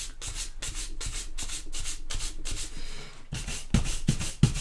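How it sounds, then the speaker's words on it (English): A traditional shoe brush buffs a finish on leather in about a dozen rhythmic brisk strokes, a close scratchy swishing with a couple of sharper knocks near the end and no talking. "You can buff with a cloth, or you can use a traditional shoe brush."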